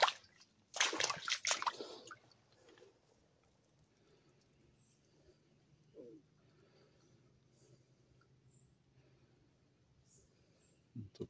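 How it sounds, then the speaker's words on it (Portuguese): Water trickles from a natural spring among rocks in a forest: a brief louder splashing burst near the start, then a faint, quiet trickle with scattered soft drips. "Aqui é uma nascente"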